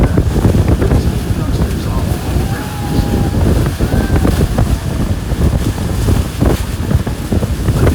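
Loud, continuous roar of rushing water at Niagara Falls with heavy wind buffeting, close and constant throughout, voices faintly under it.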